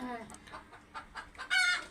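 Clucking from desi (native) backyard hens, several short bursts scattered through the moment with a louder flurry near the end; a little human voice is faintly mixed in.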